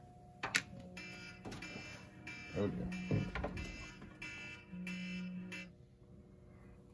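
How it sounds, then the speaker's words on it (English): An alarm tone sounds in bursts from a Commodore PET 8k computer setup during RAM chip testing, a few separate beeps spread over several seconds with a voice talking briefly alongside. "That was an alarm."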